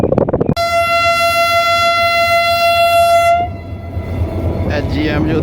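The Millat Express sounds a long, loud, steady horn blast lasting about three seconds as it departs, then rumbling train noise continues, with a brief voice at the start.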